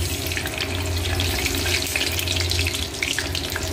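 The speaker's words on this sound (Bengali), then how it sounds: "দেখো সর্ষে ফোড়ন দিলাম," Mustard seeds spluttering and crackling in hot oil in a pan, a steady dense sizzle with a low hum underneath, close and fairly loud with no talking.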